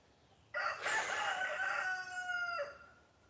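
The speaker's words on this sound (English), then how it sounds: "Preach it, Rooster" A rooster lets out a single loud, drawn-out crow lasting about two seconds with a falling tail at the end, heard alone against quiet background.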